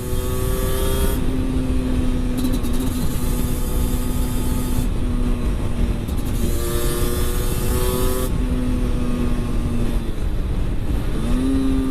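A 125cc two-stroke motorcycle ridden near Ploemeur holds a loud, close, buzzing engine tone throughout, with the pitch climbing through several gear changes and dropping at each shift.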